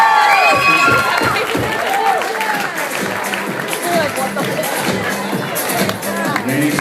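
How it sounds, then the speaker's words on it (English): Wedding guests cheer and applaud after a groomsman's speech, a loud dense crowd of claps, whoops and shouts sustained throughout, with voices mixed into the din. "Clap those hands, a nice big round of applause"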